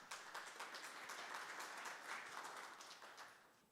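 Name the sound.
audience applause welcoming a conference speaker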